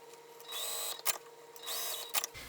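A sewing machine top stitches down both sides of an opened seam on a fabric tube for an organizer frame. Two steady whirring runs are separated by brief clacks, with no talk.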